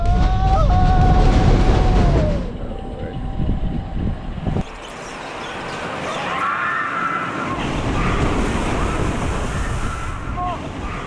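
Journey to Atlantis, a water coaster with turntables and a backwards section at SeaWorld, throws up a big rushing splash, then a long roaring wash of water and wind noise continues under faint crowd sounds.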